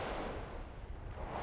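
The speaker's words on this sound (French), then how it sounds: "c'est une superbe explosion, mais c'est une petite explosion" A small volcanic explosion close by at an active volcano throwing out bombs, a dense, loud, continuous roaring rumble with no clear breaks and no voices.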